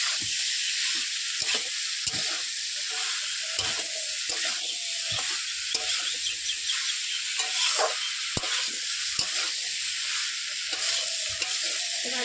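Elephant foot yam stalks fry in spice paste under a steady hissing sizzle. Repeated scraping stir strokes break up the hiss in an irregular rhythm, close and fairly loud, with no voices.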